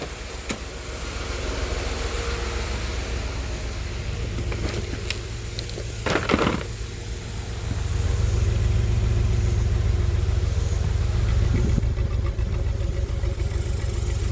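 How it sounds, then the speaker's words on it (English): A 2000 Pontiac Grand Am's swapped 3.4L engine runs steadily with a low exhaust rumble, a brief clank partway through, then the drone grows slightly louder and fuller. "Sounds pretty good out of the exhaust."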